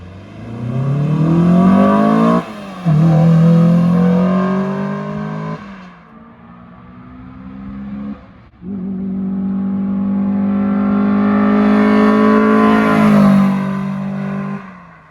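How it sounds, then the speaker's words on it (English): A Honda Civic EK with a swapped B16 engine revs hard, climbing through the rev range, dropping off, then pulling up high again in two long loud sweeps with a short lull between, recorded up close. "The B16 is just a more refined, higher revving, fun engine."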